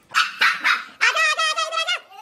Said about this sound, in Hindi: पूची ने भौंकना शुरू कर दिया है